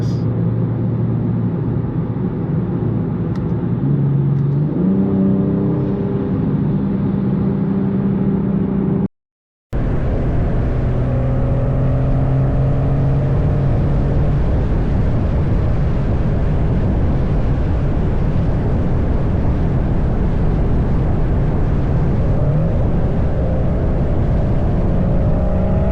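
A 2025 BMW M240i accelerating, its engine note rising through harmonic sweeps that climb and shift with each gear, heard from inside the car, loud and steady with a brief dropout midway.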